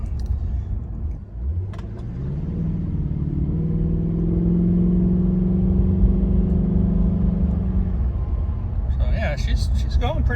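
Audi A6 4.2 Quattro V8 under throttle after a high-pressure fuel pump repair: a steady idle rumble climbs into a strong, sustained rev that holds for several seconds before easing off.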